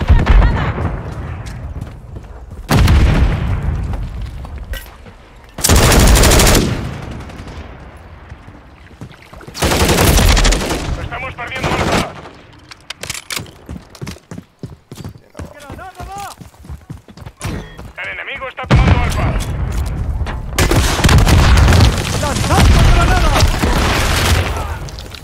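A grenade blast and bursts of gunfire in Call of Duty: Modern Warfare III mix into a loud, busy battlefield: heavy booming impacts, rapid rattling shots and announcer voice lines breaking through.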